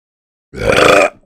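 A single loud burp, about half a second long, deep and throaty, on its own with no talking.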